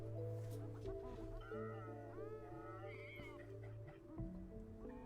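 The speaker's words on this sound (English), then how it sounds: "A cat." A cat meows inside a game trailer, a few drawn-out, wavering mewls over a steady music bed, soft and in the background with no speech over it.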